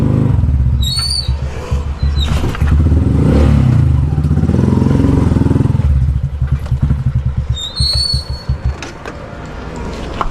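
A warm motorcycle engine idles and revs nearby, loud and rough with rising and falling throttle bursts and some rattling clatter.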